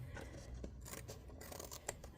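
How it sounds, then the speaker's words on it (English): A short, quiet snip of scissors trimming the end of a sticker, close by in a calm room, with faint scratchy paper sounds around it. "I'm going to cut off the butt of that sticker"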